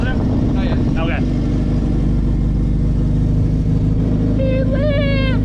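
A newly installed engine in a Subaru WRX runs close by with a steady low rumble, then climbs in pitch in short revs near the end, while people talk over it.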